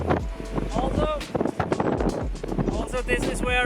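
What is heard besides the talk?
strong wind at highest point of Elba hiking trail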